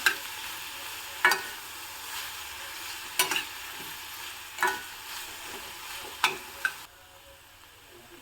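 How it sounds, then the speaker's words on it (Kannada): Spring onions fry and get stirred in a pan for a Kannada-style gojju, a steady soft sizzle broken by a few sharp spoon scrapes and clatters at regular intervals, with no talking. "ಈಗ ಸ್ಪ್ರಿಂಗ್ ಆನಿಯನ್ ಚೆನ್ನಾಗಿ ಫ್ರೈ ಆಗಿದೆ"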